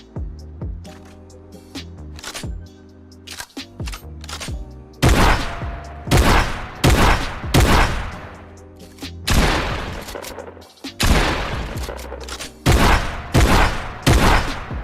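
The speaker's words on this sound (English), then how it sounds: "with this update we actually got an update on the shotgun sound effect" Fortnite Mobile shotgun firing in the game, a sequence of sharp booming blasts of irregular timing that grows louder and denser midway, with mechanical clicks between some shots and no voices.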